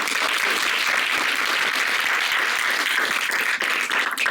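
An audience at a dinner event applauds a rapper, dense sustained clapping filling the room at steady volume with no voices over it.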